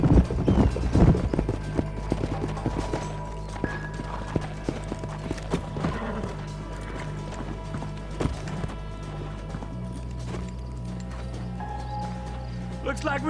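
Horses clip-clopping and whinnying in the Western video game Red Dead Redemption, with hoof beats over a steady musical drone and game dialogue voices throughout.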